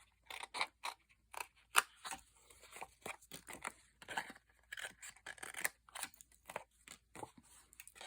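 Scissors snip paper snowman pieces apart in quick, crisp bursts of cutting, close and fairly quiet, with short pauses between the runs of snips.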